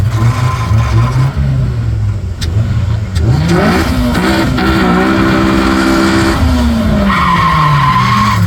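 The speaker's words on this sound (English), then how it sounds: "It's actually very fast, dropping heads all day, taking on this naturally aspirated Mark 1." A naturally aspirated Mark 1 drag race car launches hard with squealing tires, then its engine revs and climbs loudly through the run, close and dominant with no talking.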